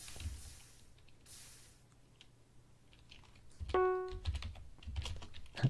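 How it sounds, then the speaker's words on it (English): Typing on a computer keyboard comes in short clattering bursts of keystrokes with quiet gaps, mixed with a few other clicks and a brief tonal beep, no speech. "I was typing it in"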